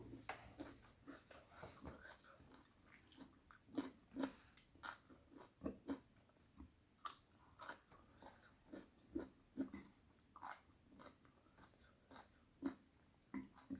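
Green mango dipped in shrimp paste, bitten and chewed close up, with repeated crunchy bites and wet chewing at a steady rhythm.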